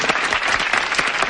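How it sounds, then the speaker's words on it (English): A studio audience gives a short burst of dense, close applause for a four-time Super Bowl winner on a 1990s sitcom, loud and continuous throughout. "Let's give a big round of applause to 4-time Super Bowl winner Terry Bradshaw"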